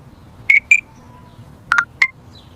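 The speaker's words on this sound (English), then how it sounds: "I am checking my phone." A mobile phone beeps as someone checks it: four short, clear electronic tones in two quick pairs, separated by a brief pause over a quiet background.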